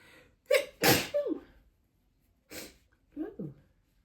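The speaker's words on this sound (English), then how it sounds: "I feel a sneeze coming on." A person sneezes: a short sharp burst, a second stronger sneeze and gasping breaths, then after a pause a smaller sneeze and a couple of breathy sounds, close and clear.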